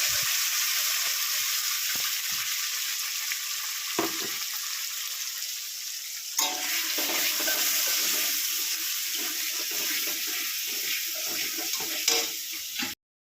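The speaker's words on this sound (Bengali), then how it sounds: "এবার আমি মশলাটাকে দিয়ে সুন্দর করে কষিয়ে নেব" Chicken sizzles steadily with spice paste of onion, garlic, ginger, whole garam masala and cumin in a pan, a bright continuous frying hiss with occasional stirring knocks and scrapes, close up.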